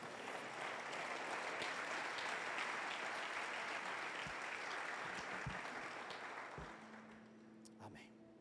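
A church congregation breaks into sustained applause, a dense wash of many hands clapping at once that fades out near the end, leaving a few scattered claps and faint background sounds.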